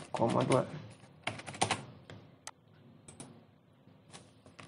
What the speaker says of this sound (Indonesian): kita ketikkan sama dengan kemudian permut yes, langsung aja pencet tombol tab pada keyboard